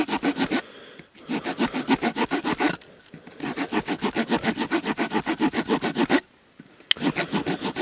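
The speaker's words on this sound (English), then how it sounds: "So saw into the wood, about a quarter to one third of the way in, and turn it round." A small folding saw blade from a multitool cuts into a piece of wood at a bushcraft camp, in quick, even back-and-forth strokes with two short pauses between runs, close and clear.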